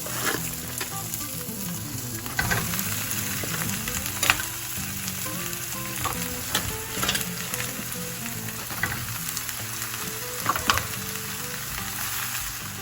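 Lean 92% ground beef browning in a pan crackles and sizzles steadily and close, with frequent sharp stirring scrapes and pops scattered throughout.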